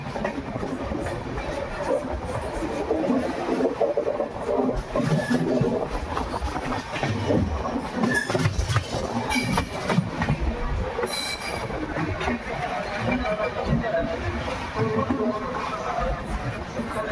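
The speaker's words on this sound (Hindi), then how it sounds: "लेफ़्ट साइड वाली लूप लाइन पर ट्रेन जाती हुई नज़र आ रही है" Jaipur Jodhpur High Court SF Express train rolling along a loop line, a steady rumble of wheels with squealing metal and rhythmic clatter, close and continuous, while someone speaks now and then.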